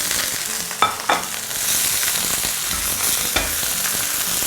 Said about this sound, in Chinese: 好，下入豆芽。